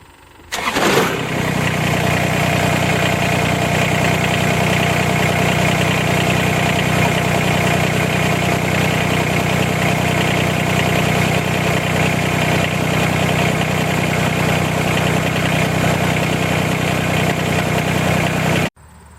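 A Kubota BX2230 compact tractor engine cranks and catches at once, then settles into a loud, steady diesel idle that runs close by without change for over fifteen seconds before cutting off.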